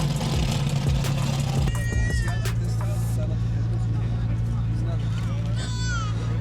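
A supercharged Dodge Viper idles and revs with a loud, deep, rumbling engine drone that stays close and steady throughout, with people talking over it.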